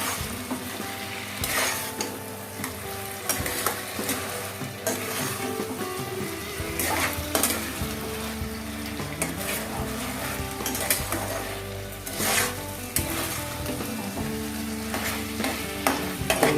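Soya chunks being stirred and fried in a pan for a chilli soya dish: a continuous sizzle with repeated spoon scrapes and clinks against the pan, close and fairly loud, with no talk.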